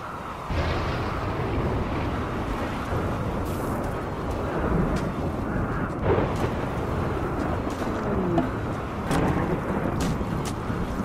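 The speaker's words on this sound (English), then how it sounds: "A flash storm of some kind coming on. Dry thunderstorm, it says." A dry thunderstorm rolls through in RimWorld on arid shrubland, a continuous low rumbling wash of storm noise with faint cracks and swells, no talking over it.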